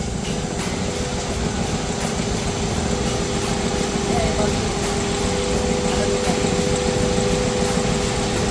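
A Suzuki Ertiga engine idles with a rough, uneven running note from a misfire, a steady close hum with a faint irregular shake throughout.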